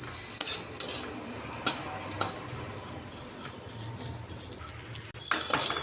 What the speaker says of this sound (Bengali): আমি একটু সিমুইটা লাল করে ভেজে নেব।